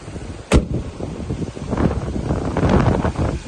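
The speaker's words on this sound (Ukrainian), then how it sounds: "вітер капець сьогодні" Strong wind buffets the microphone in rumbling gusts during an outdoor used-car inspection, with a sharp bang near the start and low roaring turbulence throughout.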